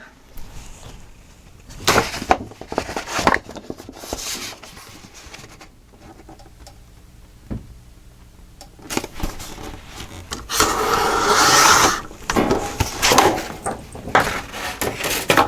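Cutting out a piece of paper or card for a photo album, scattered crisp snips and scratchy scraping in bursts with quiet gaps, then a denser rasping stretch near the end.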